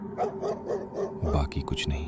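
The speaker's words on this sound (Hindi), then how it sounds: "कुत्ते दूर कहीं भौंक रहे थे" Dogs barking far off in the night, heard as a run of short, rhythmic barks and yelps under a speaking voice, with a sharper cluster of barks near the end.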